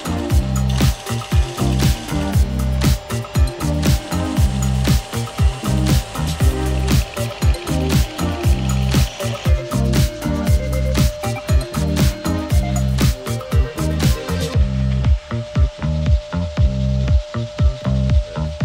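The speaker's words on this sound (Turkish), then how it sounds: "Ve zımparalayıp şekil veriyorum. Pürüzsüz hale getirmek şart." Steady rhythmic scraping of sanding on pallet wood, repeated rapid strokes with a gritty rasp, continuous and loud, ending slightly quieter.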